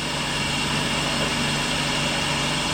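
A David Brown 996 tractor engine idles steadily at about 700 RPM, a loud, even diesel rumble with a constant throb and no change in pace, heard close up without voices.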